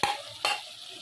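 Chicken karahi stir-fried in a pan: two brief scraping, sizzling stirs, one at the start and one just under halfway, over a low steady frying hiss, close and moderately loud.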